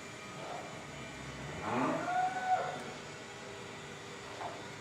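A cow at a livestock agro farm lets out a single drawn-out moo, fairly faint and a little distant, over a quiet background.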